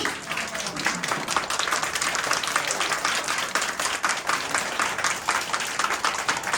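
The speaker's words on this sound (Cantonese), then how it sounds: "請大家借個大家熱烈嘅掌聲，歡迎我哋25屆男領導同埋我哋創業名人3 Spencer 老師" An indoor audience applauds to welcome a speaker at an evening business and anti-aging talk, a dense, sustained patter of many hands clapping at an even level throughout, with voices underneath.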